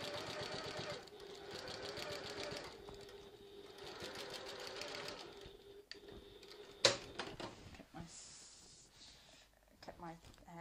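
A domestic sewing machine runs a long continuous stitch along a tote bag seam, steady mechanical whirring close by, then slows with a few clicks and brief stops near the end.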